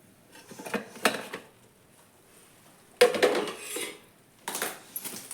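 A pot of boiling tomato chutney lifted off the stove, giving scattered metallic clanks and scrapes of pot and utensils in three bursts separated by quiet gaps.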